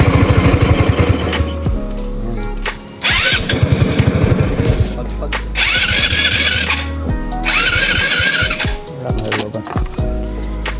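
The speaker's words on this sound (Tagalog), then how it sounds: "kailangan mo pa siyang tulungan ng gasolina para mapaandar. Ayan. Ayan, kung maririnig nyo, palyado pumanakbo." A misfiring 150cc Easyride scooter engine running after being helped with fuel, loud and close, revving in uneven surges with rough, stuttering pulses and a high squeal between bursts.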